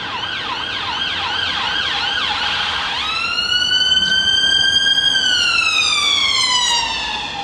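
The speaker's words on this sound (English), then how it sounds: "Was that fire engine? I can never tell." An emergency vehicle siren, fire engine or ambulance, passing outside: a rapid rising-falling yelp switches to a loud steady two-tone wail that slowly drops in pitch as it moves away, with no talk.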